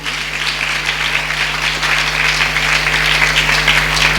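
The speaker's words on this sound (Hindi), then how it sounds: "ताली बजाओ इसके लिए।" A church congregation applauds together in steady, dense clapping that carries loudly through the hall for a few seconds, with no talk over it.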